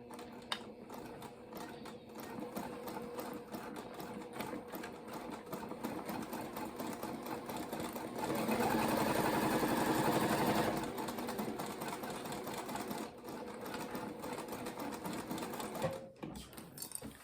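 A domestic sewing machine stitches reusable cloth napkins around curves, its needle chattering in a steady mechanical stream that pauses and restarts as the fabric is pivoted, growing louder through the middle stretch.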